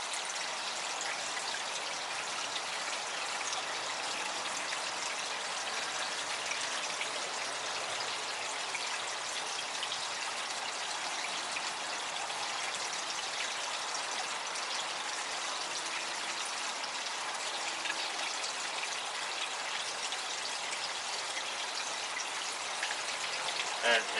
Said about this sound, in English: I'm going to take my little net, and go in there and try to get some of that debris.